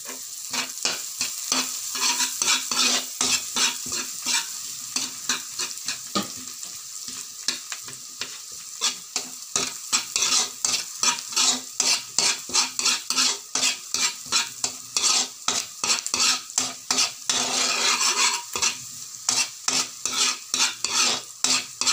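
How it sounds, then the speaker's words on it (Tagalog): Garlic and seafood frying in butter in a pan while being stirred continuously, rapid rhythmic scraping and clinking of a utensil over a constant loud sizzle, no talking. "Tapos, ilagay natin yung ating bawang. Tapos, tuloy-tuloy lang yung paghalo."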